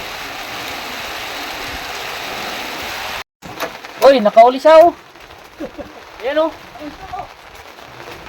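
Heavy rain pours in a dense, steady hiss for several seconds, cuts out abruptly, then returns softer beneath excited voices talking close by.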